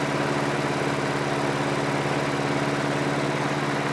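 An old Homelite lawnmower engine idles steadily and close by, a continuous even putter with no variation in speed and nobody talking.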